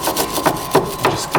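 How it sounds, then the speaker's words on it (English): A wire brush scrubbing the hub mating surface on a 2006 Hyundai Tucson during a brake rotor replacement: rhythmic, gritty back-and-forth rasping strokes, about four per second-and-a-half, close and fairly loud with no talking. "Now we have to clean the mating surface between the hub and the new rotor. So use a wire brush and go in and"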